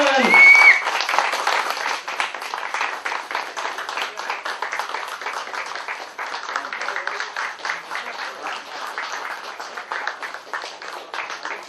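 Crew and cast clap on the set of a Hindi TV serial, a steady, thin patter of many hands lasting several seconds, fairly close, with voices mixed in and a brief louder start.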